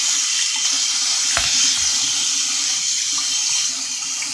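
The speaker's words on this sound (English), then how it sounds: "Rinse this damn strainer out." Kitchen faucet running as a strainer is rinsed: steady hissing rush of water, close and fairly loud, with a brief clunk partway through.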